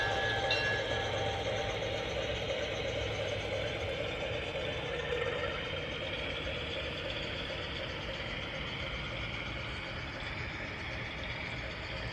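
A garden railway locomotive pulling three empty wagons rumbles steadily along the outdoor track, a continuous mechanical hum and rattle with no pauses, moderately close.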